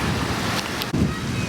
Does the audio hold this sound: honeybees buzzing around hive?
no